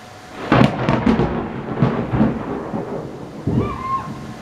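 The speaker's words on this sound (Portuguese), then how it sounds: "Debaixo de chuvas e trovoadas" Thunder rumbles in heavy bursts over steady falling rain. The booming rolls repeat loud and close, with the rain hissing continuously underneath.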